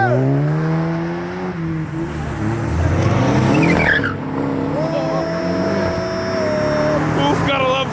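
A Porsche does donuts in an intersection after a car show, its tires squealing in long rising and falling wails over a loud revving engine, with people shouting nearby.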